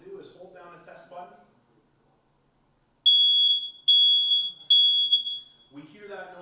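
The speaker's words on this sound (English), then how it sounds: "We hear that noise, we can go on to the next smoke alarm" Three loud, shrill electronic beeps from a smoke alarm in quick succession, with a person talking before and after.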